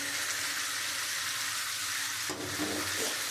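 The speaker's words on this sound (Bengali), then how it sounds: "এবার যে আমি চিংড়ি মাছটা আমি ভেজে রেখেছি আমি এটা এবারে দিয়ে দেবো।" Fried shrimp dropped into a pan of spiced masala give a steady loud sizzle of hot oil that lasts throughout, with a short stir or clatter about two-thirds of the way in.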